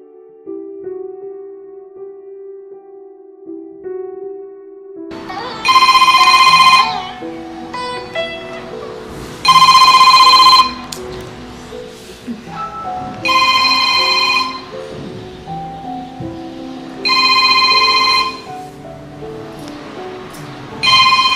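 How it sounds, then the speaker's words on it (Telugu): A telephone rings unanswered, its ringtone repeating in five loud, regular bursts with short gaps between them, following a few seconds of a low hum. "ఫోన్ ఎక్కడ పెడుతుందో ఏమో, ఇంతసేపు రింగ్ అవుతుంది, ఇంకా లిఫ్ట్ చేయట్లేదు"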